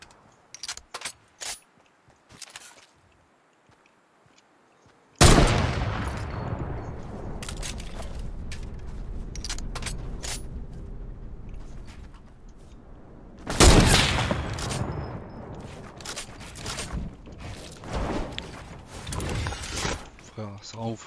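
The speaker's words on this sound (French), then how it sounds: "pourquoi je tire en l'air comme ça là?" Gunfire in the Fortnite video game, with scattered sharp shots at first, then sudden loud bursts at about five and fourteen seconds followed by rattling game noise, with someone talking throughout.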